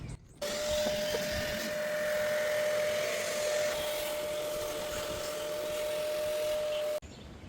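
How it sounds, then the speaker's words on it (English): A vacuum sucks metal shavings out of a glow plug hole on a Ford Transit engine, a steady close whirring hum that runs unbroken for about six and a half seconds and then cuts off abruptly, with no talk. "we'll use a vacuum and suck out anything that might be left over in there"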